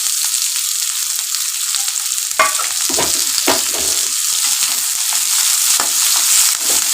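Sliced onions frying in hot oil in a pan for a tangra fish curry, a loud continuous hiss with scattered spatula scrapes and stirring knocks, close by and without speech.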